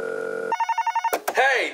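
A telephone rings: a steady tone, then a rapid burst of repeated bell pulses, followed by a short clatter as the receiver is picked up.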